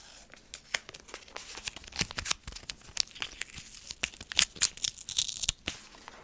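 Adhesive tape is ripped off the roll in rapid, crackly tearing bursts during an ASMR nose-taping session, loud and close with crinkly peeling between tears and no talking.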